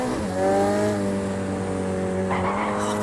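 A McLaren 720S in a racing video game drifts with its engine holding a steady, loud tone while the tires squeal through the slide, and the revs shift just before the end.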